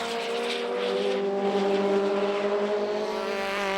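Lotus Elise Trophy race cars battling at Oulton Park, a close high-revving engine whine with rising and falling pitch as the cars sweep past, loud and unbroken.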